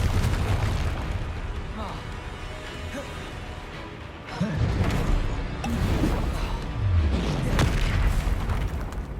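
Booming blasts from the Confringo spell in Hogwarts Legacy, several heavy, rumbling explosions and bursts layered over continuous game effects, loud and close, with voices talking over them.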